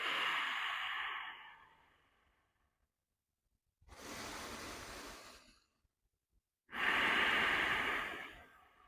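Three slow, deep breaths during a stretch: airy exhales close to the mic, each followed by a quiet gap, the last one strongest, with no talking.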